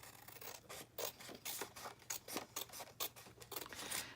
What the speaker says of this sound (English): And then I'm going to take some scissors. I need to cut off